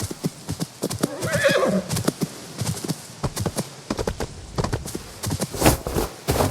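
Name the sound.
horse neighing and hooves in the video game Where Winds Meet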